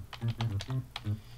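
Keys pressed on a QWERTY computer keyboard used to play notes, a short run of about five close, distinct key taps in an uneven rhythm over a low hum.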